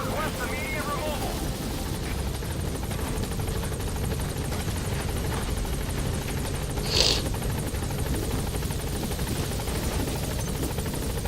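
Helicopter in the video game Metal Gear Solid V: The Phantom Pain, its rotor drone steady and loud across the whole stretch, with game radio voices talking over it.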